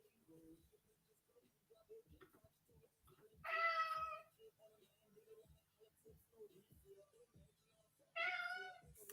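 A house cat meows twice, each call short and clear and several seconds apart, over a quiet background with faint low talk and small tapping sounds.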